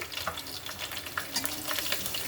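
Onion and green chili sizzle in oil with curry leaves in a chicken fry, a soft, crackling hiss with scattered pops and light stirring scrapes.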